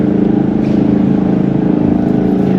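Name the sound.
electric utility transport platform with two electric motors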